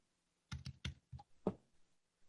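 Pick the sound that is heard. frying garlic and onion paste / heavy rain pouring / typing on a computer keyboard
typing on a computer keyboard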